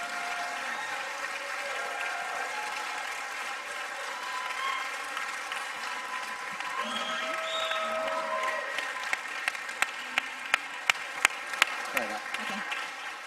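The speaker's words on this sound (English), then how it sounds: "We're going to give them a big round of applause." Applause from a conference audience at the Knowing You Matter Conference 2021, moderately distant and steady, with crowd murmur and people talking underneath, and a few sharper near claps toward the end.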